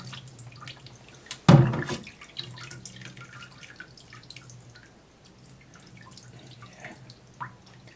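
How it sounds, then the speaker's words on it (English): Water from a tap trickles and drips through the cylinder of a cap and ball revolver with the nipples still fitted, opening with a brief loud splash, then running as faint drips and trickles under a low hum. "rinse it out with the nipples on, so the water basically runs through them"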